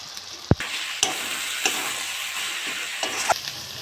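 Small boiled potatoes go into a hot frying pan, giving a steady close sizzle punctuated by several sharp knocks and clacks of the potatoes and utensil against the pan.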